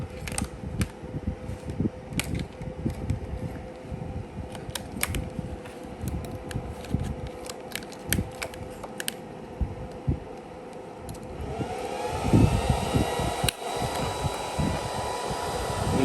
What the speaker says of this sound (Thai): สำหรับขนาด 40 แอมป์พัดลมค่อนข้าง ที่จะหมุนเร็ว เสียงดังนิดนึง